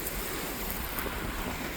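Waves surge and crash against the rocky shore on the north side of Malcolm Island, a steady close roar of churning water mixed with wind buffeting the microphone, no voices.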